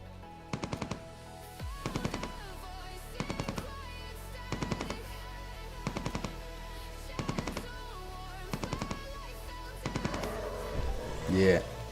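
Automatic weapon fire in the video game Entropia Universe during a hunt in a valley of bone crushers: short rapid bursts repeating roughly every second, loud and close, with a rumbling blast near the end.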